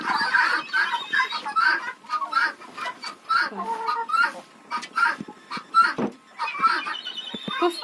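Several farmyard chickens cluck and murmur continuously as they go into their coop on a chilly evening, close and moderately loud in irregular bursts.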